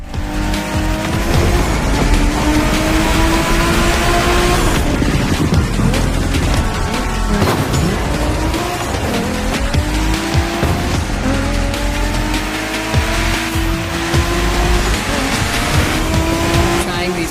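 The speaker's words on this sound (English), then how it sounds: "Right in the center of all the action, racing these Japanese drift masters." Race cars in The Crew Motorfest video game roar through a Japanese drift race with loud, continuous engines and repeated tire squeals and skids, a dense, steady wall of sound lasting throughout.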